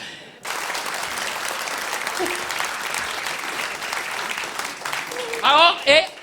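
Sustained audience applause fills a French storytelling show with dense, steady clapping that fades out toward the end as a voice starts to speak.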